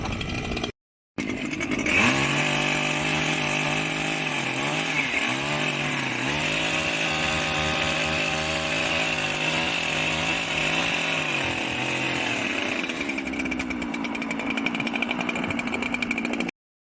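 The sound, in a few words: petrol chainsaw running while cutting trees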